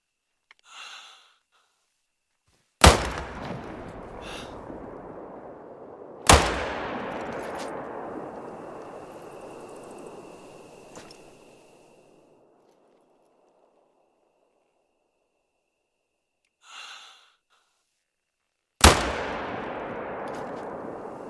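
Video game gunfire aimed at a boar: three loud, sharp single shots spread apart, each followed by a long ringing echo tail, with faint breathy sounds between.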